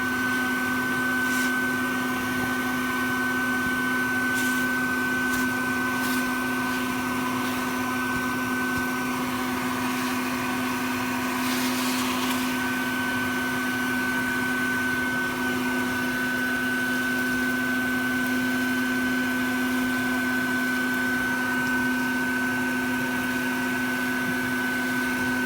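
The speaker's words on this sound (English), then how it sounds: "I'm fixing to start vacuuming." A vacuum cleaner runs with a steady, even whine and hum held at constant loudness for the whole stretch, with a few faint clicks and no talk.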